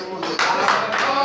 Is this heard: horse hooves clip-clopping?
no